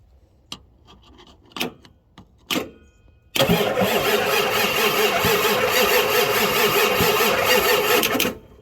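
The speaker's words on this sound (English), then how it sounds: "we're going to go ahead and see if this thing will crank over" A diesel engine cranks over on a single small, weak battery: a few brief clicks and short starter bursts, then a loud, steady grinding crank that carries on for about five seconds before cutting off.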